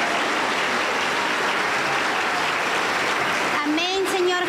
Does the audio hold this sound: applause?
yes